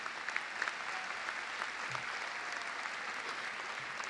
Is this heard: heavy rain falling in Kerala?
no